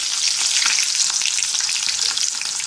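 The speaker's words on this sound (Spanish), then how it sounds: "Ya nuestros ajitos ya también se están empezando a dorar demasiado." Garlic frying in a pan for a pineapple dish with spicy mango dressing, a steady dense sizzle that stays loud and even throughout with no voices.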